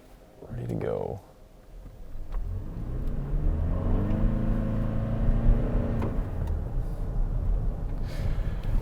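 A 2022 Lexus NX350h hybrid SUV accelerates in sport drive mode, with a steady mid-level engine drone that builds gradually and holds, heard from inside the cabin after a brief burst of speech.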